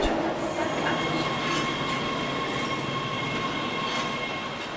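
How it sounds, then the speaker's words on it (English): A Los Angeles subway Red Line train rumbles along steadily, loud and close, with a constant roar of wheels on track and faint high squeals. "we both hopped on to the Los Angeles subway's Red Line to North Hollywood Station"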